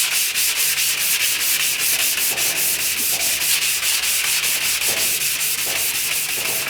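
Primer being hand-sanded with fine-grit sandpaper on a dry section during wet sanding for paint: a steady, close, loud scratchy rasp with quick back-and-forth strokes repeating throughout, with no talking.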